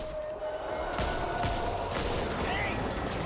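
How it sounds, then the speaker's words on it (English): Gunfire rattles in the zombie shooter Back 4 Blood, a continuous burst of shots over a noisy battle with a voice partly audible beneath it. "Watch where you're shooting!"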